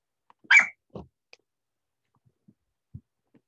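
Excited puppies bark in a short burst, one sharp nearby yelp followed by a lower woof, then a few faint scattered yips and thumps in a quiet room.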